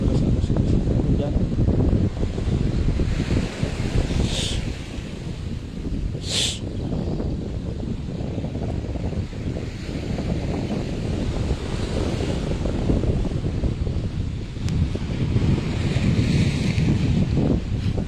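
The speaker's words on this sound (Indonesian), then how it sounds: "ombak juga masih tergolong besar ya Tribunals, apalagi pada saat musim hujan." Ocean waves surge and wash against a damaged coastal road connecting hamlets in Takkalasi, with strong gusting wind buffeting the microphone and a couple of sharper splashes breaking through the steady roar.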